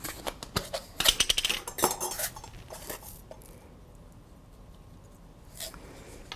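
Potato pancake batter with grated cheese being stirred in a bowl, giving a burst of scraping and clinking utensil strokes up front, then quieter and sparser stirring, with no talking.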